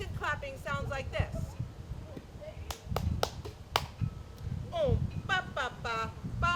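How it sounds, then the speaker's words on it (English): Several sharp hand claps land in a short rhythmic group at a Race Amity Day gathering, set among adult and children's voices counting and chanting a clapping pattern. "Second clapping sounds like this."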